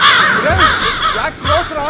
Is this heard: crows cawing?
yes